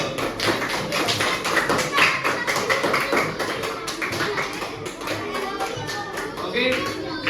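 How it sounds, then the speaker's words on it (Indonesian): A classroom group claps for a student team, dense rapid clapping from many hands sustained evenly for several seconds, fairly loud and close, with no talk over it. "tepuk tangan untuk kelompok"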